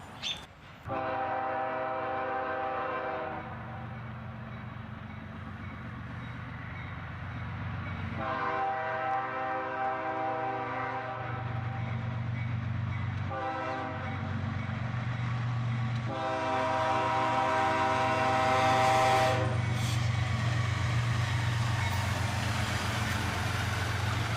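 A CSX freight train rolls steadily past at close range, its horn sounding in repeated long blasts over the continuous rumble and clatter of the cars, with no talking.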